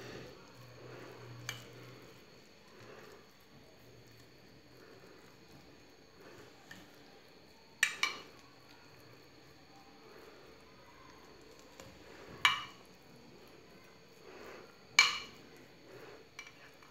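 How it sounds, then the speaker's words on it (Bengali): Spoon spreading carrot sandesh mixture across a dish, with a few sharp metallic scrapes and clinks spaced seconds apart, fairly close, over a quiet room hum. "আমি একটা চামচের সাহায্যে এরকম করে পুরোটা বিছিয়ে দিচ্ছি।"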